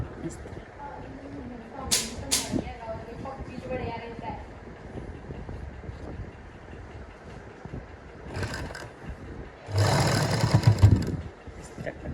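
A sewing machine runs in short bursts stitching along the folded edge of a frock, its loudest whirring run near the end, with someone talking between bursts.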